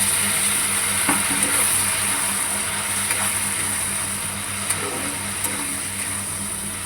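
Spices frying in a pan while being stirred, a steady mid-level sizzle with occasional soft scrapes and a low hum underneath.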